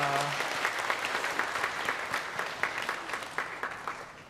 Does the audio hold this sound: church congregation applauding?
yes